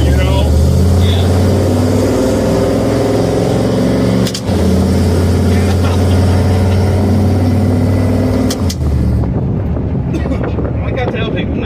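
Steady loud engine drone and wind rush from a 700HP Ford F100 truck cruising along, holding a constant tone nearly throughout before easing off near the end.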